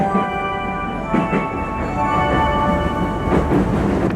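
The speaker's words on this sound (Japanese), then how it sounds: "こうして8時4分奈良駅を発車です" A JR West rapid train bound for Kyoto pulling out of Nara Station, a steady low rumble of motor and wheels inside the carriage with rhythmic rail joint thumps and a faint tonal whine.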